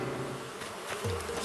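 A bee buzzes steadily as it is caught with a net in Animal Crossing: New Horizons, a continuous insect drone with a short dip and rise partway through, alone and without talk.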